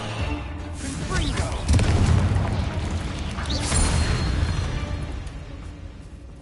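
Confringo blasting spell in Hogwarts Legacy, a booming explosion with rumbling low impact and crackling debris that swells then slowly fades, heard loud and near.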